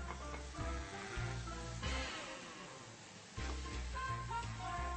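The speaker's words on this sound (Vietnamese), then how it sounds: "Tôm xào vừa mới hơi chín thôi, mình lại tiếp tục cho nấm rơm vào" Shrimp and straw mushrooms stir-frying in a hot pan give a steady, close sizzle with scraping stirs, and the frying swells louder near the end.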